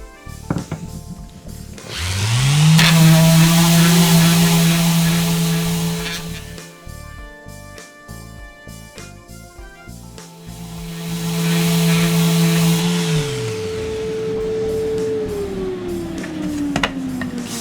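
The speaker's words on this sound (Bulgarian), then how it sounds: "Но за момента предпочитам да продължа да шлайфам" A power sander whirs loudly against a wood surface being prepared for varnish in two long passes, spinning up and winding down with a brief pause between.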